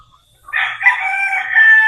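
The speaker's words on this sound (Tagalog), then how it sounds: "Nandito yung mga ating authentic na mga hen at pullets." A rooster crows loud and close in one long drawn-out call, the start of a farmyard flock of hens and pullets.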